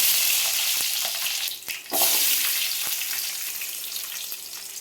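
Garlic is added to cumin seeds frying in hot sesame oil for kara kuzhambu. A loud, dense sizzle crackles continuously and briefly dips and flares in the middle as the garlic goes in.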